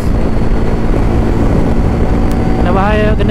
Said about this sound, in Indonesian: Angin kuat guys.